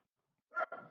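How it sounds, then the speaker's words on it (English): A dog gives a single short bark followed by a softer yelp indoors after a moment of quiet, moderately close. "my dog likes to bark a lot"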